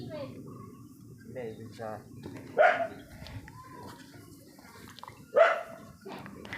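A dog gives two sharp barks at a Tamil tribal hillside settlement, with a few seconds between them, heard over ongoing talk and outdoor background noise.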